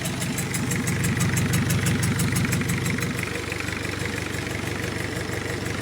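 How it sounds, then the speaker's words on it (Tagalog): A KIA JT car engine idles close by with a rapid, pulsing rumble and a steady exhaust hiss over it; the throb eases slightly toward the end. "may sagit-sit siya dahil lang yan sa tunog ng tambutso"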